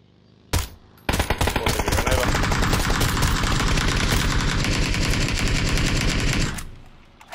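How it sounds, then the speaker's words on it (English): An AK rifle in a video game fires one sharp shot, then after a short pause unleashes a long, loud, rapid automatic burst lasting several seconds before it cuts off. "AK will blow it up."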